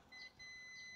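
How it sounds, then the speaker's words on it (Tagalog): Short electronic beeps from a continuity tester's buzzer, checking connections on a wall switch for a bulb wired with 3-way and 4-way switches; two brief, quiet bright tones in quick succession. "Buzzer lang yung gamitin natin."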